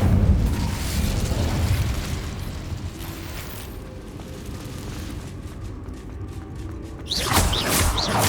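A Bombarda spell blast in Hogwarts Legacy, a heavy rumbling explosion with a broad roar that lingers, followed by a quieter stretch and a second bright, crackling burst near the end.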